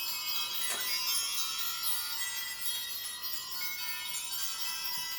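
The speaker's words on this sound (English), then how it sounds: "I want to ring the bells." Shimmering high bells ring continuously with dense metallic overtones, one brighter strike standing out early, steady and fairly close.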